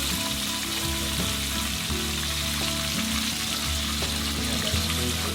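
Wild pork nuggets deep-frying in oil make a loud, close, continuous crackling sizzle, with bubbling pops throughout and a low rumbling hum underneath. No voices are heard.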